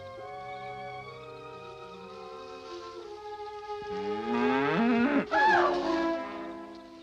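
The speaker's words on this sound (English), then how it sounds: "just a cow" A cow at night in rural farm country moos in a long, loud, drawn-out call with a rising and falling pitch, heard over a sustained orchestral film score in a 1946 horror movie.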